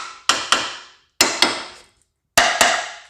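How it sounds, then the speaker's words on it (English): Sharp metallic hammer taps on a rusted steel Suburban truck frame in three pairs, each ringing briefly before fading, with short pauses between pairs; close and loud, no talking. "when you're tapping on the frame"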